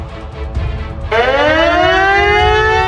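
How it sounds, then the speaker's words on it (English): A loud civil defense siren wails up and rises in pitch, sustained and blaring, preceded by a moment of rumbling noise, at the Russian Black Sea Fleet command in Crimea. "the sirens began blaring"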